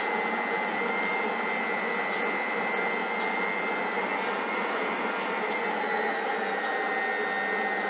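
An Oberhof planetary mixer runs on its first, lowest speed while mixing flour for chak-chak dough. It gives a steady, continuous motor whir at an even level throughout.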